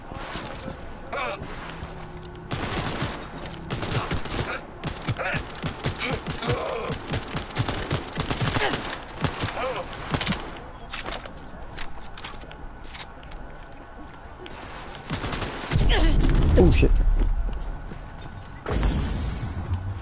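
Gunfire in the video game Cyberpunk 2077, rapid shots in dense bursts with dry clattering impacts, loud and near, a voice speaking in places between volleys.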